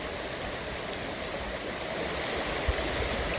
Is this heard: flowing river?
yes